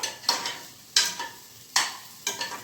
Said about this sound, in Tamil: இப்போ வெங்காயம், கருவேப்பிலை, இஞ்சி, பச்சை மிளகாய் எல்லாம் வேகுது. இப்போ நம்ம நல்லா கிளறி விடணும்.